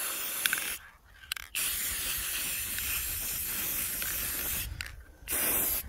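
Aerosol spray paint hissing onto tiles being prepared for laser engraving, two long continuous close bursts separated by brief pauses, steady and alone.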